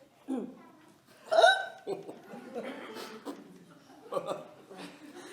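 Several sharp hiccups, loud and close, break into a chatty French studio conversation, with light chuckling between them.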